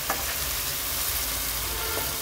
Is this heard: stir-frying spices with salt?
yes